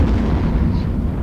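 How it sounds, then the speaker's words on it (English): Missile launches and explosions in the space game EVE Online, a dense continuous barrage of booming blasts with no pauses, loud and close. "so I'm putting 4 missiles on each"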